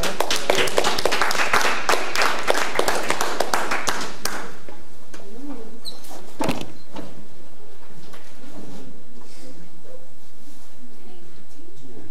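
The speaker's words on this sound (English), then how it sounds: "Let's give them a round of applause." A community college event crowd applauds loudly at the close of a presentation, dense clapping for about four seconds before breaking off into scattered taps and quiet room noise.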